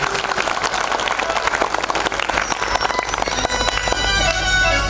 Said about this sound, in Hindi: परीक्षित परिवार के लिए सभी लोग ताली बजाएं।